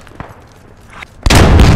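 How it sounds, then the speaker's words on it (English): Mortar explosion in the military shooter game Squad, a sudden loud blast that breaks in after a second of quiet scattered sounds and rolls on as a heavy roar. "That was a mortar, dude."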